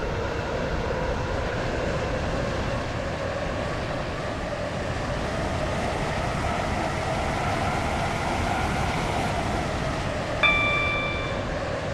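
Class 707 train in the Roblox game Stepford County Railway running on a Stepford Connect service, a steady loud rumbling drone of motors and wheels holding for the whole stretch with a brief chime near the end.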